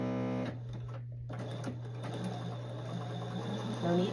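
Sewing machine running steadily to stitch chiffon on a three-tiered maxi dress, with a constant motor hum and quick stitching rattle that pauses briefly, then continues close up without anyone talking.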